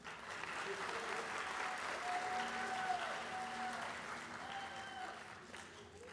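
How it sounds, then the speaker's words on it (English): Steady applause from a ceremony audience at a school district teacher-of-the-year event, moderately distant and even for about six seconds, with faint tonal sounds in the background. "Big round of applause for Troney"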